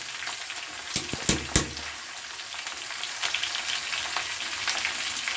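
Cauliflower, peas and potatoes frying in a pan, a steady close sizzle with a few sharp clanks of the spatula early on, no voices.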